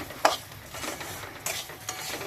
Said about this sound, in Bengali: এই যে ভেজে নিলাম আদা দিয়ে